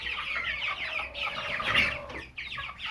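Backyard chickens being raised for meat, now big and plump at about four to six weeks old, cluck and chatter steadily at close range in a busy, overlapping flock with no talking.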